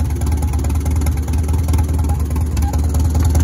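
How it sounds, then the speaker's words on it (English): A tractor engine idles steadily at close range, a loud, even low rumble that holds without revving for a few seconds. "Seems to idle pretty nice."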